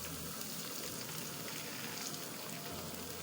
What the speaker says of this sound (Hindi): अब हमने ये जो दाल वाला पानी है ना, वो इसमें ऐड करना है थोड़ा सा